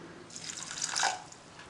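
Water is poured into a cooking vessel holding jaggery to melt it, a faint brief trickling splash lasting about a second, heard alone.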